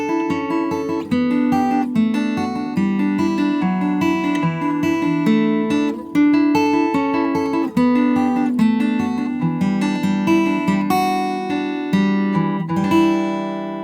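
Guitar plays a song's chorus, steady strummed chords with a ringing melodic top line, continuous and loud with no voices.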